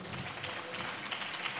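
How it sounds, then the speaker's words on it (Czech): Talk show studio audience clapping at the host's urging, a steady wash of applause throughout with a faint voice underneath. "zatleskejte."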